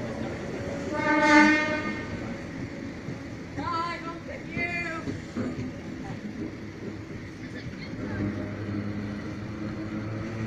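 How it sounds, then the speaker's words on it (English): Red Rattler train set F1 passing through a station platform on a special charter, sounding a loud horn blast early, then a few shorter horn toots over a steady rumble of rolling wagons, with voices talking nearby. "We have Red Rattler set F1 about to pass through platform number 2 for a Leppington special charter service."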